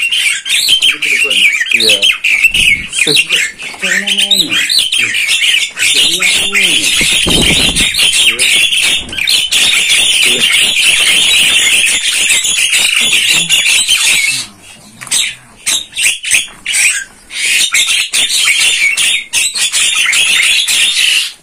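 Caged jalak starlings squawk and call loudly and almost without pause, harsh repeated cries piling over one another, with a brief thinning of the calls partway through and a short spoken word.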